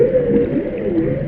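A whale vocalizes in one long, steady low moan with slowly wavering pitch, loud and continuous, with no other sound around it.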